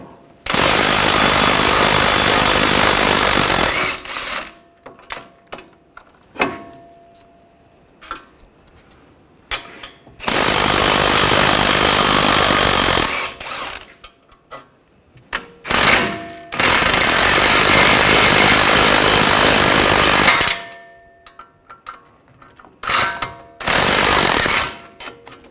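Power tool bursts loosening the hub bolts on a 2006-2010 BMW 550i with an 18 mm socket: four long, loud rattling runs of several seconds each, with quieter clinks and handling noises in the pauses between them.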